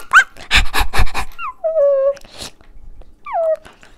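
A dog whimpers and pants in a Lego Friends puppy parade toy-play scene, with breathy panting at first, then several high whining whimpers rising and falling up close.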